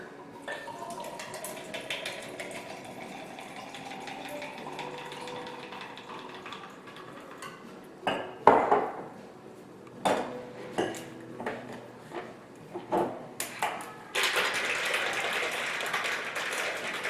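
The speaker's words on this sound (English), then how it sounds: "Ice cubes in a shaker." Ice cubes clatter in a metal cocktail shaker, first quiet rattling and handling, then a series of sharp knocks and clinks, ending in a dense burst of rapid shaking rattle.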